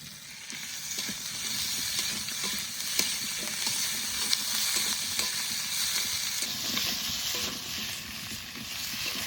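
Potatoes with ginger paste fry in a pan for a village-style fish curry. A dense, steady sizzle runs under continual stirring, close and loud, with no one speaking.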